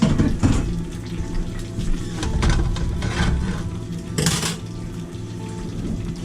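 Metal cooking pans clank and scrape as they are set onto a home kitchen stove while supper is made, with bursts of running tap water and a sharp clatter near the end, all close and busy.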